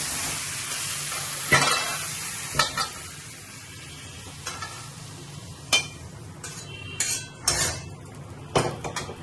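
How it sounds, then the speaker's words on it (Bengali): Lightly fried mixed vegetables are scooped from a pan, with a soft sizzle under repeated sharp clinks and scrapes of a metal spoon against the pan, close and irregular. "সবজি সব ভাজা হয়ে গেছে, তাকে খুব হালকা করে ভেজেছি। এবার আমি এটাকে নামিয়ে দেবো,"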